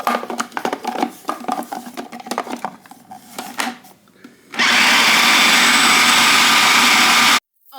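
A blender whirs steadily and loud for about three seconds, mixing a homemade copycat Nutella of chocolate, chocolate extract and oil, after a stretch of clattering kitchen noises, then cuts off abruptly.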